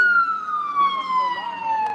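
An emergency siren wails steadily outside a courthouse, its tone slowly falling in pitch as it passes, loud over faint traffic noise.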